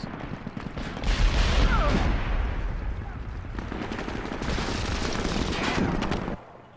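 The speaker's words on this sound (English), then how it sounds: "Fuck off with the explosions." Explosions and rapid gunfire from a SOCOM 4 multiplayer video game battle, a dense continuous barrage of bursts and booms that swells after the first second and holds loud until cutting off near the end.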